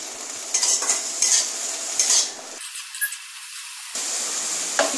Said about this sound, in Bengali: অন্য গ্যাসের মধ্যে মটরশুঁটিটা একটু ভেজে নিচ্ছি। একটু সামান্য নেড়ে নিয়ে